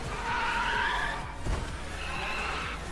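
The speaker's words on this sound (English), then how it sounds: "And that electric engine sound?" The Solar Bow electric car in the Test Drive video game gives off a steady whining electric motor tone with rising pitch sweeps. A brief squeal of tires and a thump sound midway, all played fairly quietly and close.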